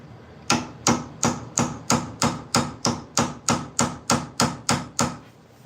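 Hammer tapping brass pins, about fourteen sharp, evenly spaced close strikes at a steady rhythm, each with a short ringing decay, and no voices.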